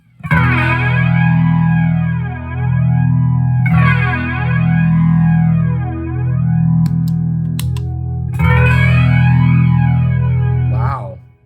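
Electric guitar run through a PastFX flanger pedal, sustained chords swelling with a sweeping, jet-like whoosh that rises and falls in slow cycles, loud and close, ringing alone in three long passages.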